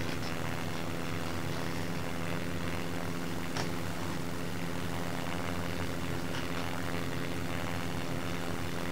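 Propeller plane engine in the SimplePlanes video game, a steady loud droning hum with constant buzzing tones that stays unchanged from start to end, without speech.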